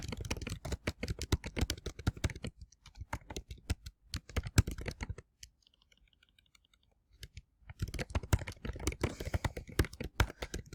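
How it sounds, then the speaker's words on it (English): Rapid typing on a computer keyboard, dense clusters of key clicks that pause briefly and then resume, heard close and alone while composing a social media post. "type what you want to do,"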